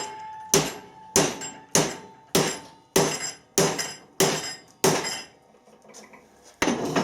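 Hammer blows strike a MIG-welded aluminium part in a kinetic weld test, eight sharp ringing impacts in a steady rhythm, then a pause and one more hit, loud and close with no talking.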